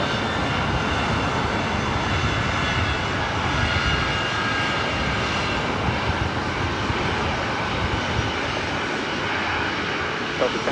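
Aircraft engines roar steadily at LAX airport, a loud, broad continuous rumble that neither rises nor fades. A voice is faintly heard under the noise.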